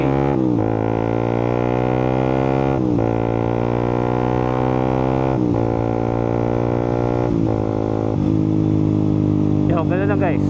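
A Suzuki GSX 150 motorcycle engine running loud and close while downshifting from 6th to 5th gear, with steady drone broken by several gear-change dips and a rising rev near the end.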